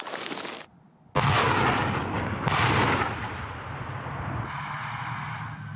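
Grad multiple rocket launcher firing salvos in the war in Ukraine to cover infantry: loud, close roaring blasts in quick succession, each launch a sharp burst trailing into a rushing whoosh, with no talk.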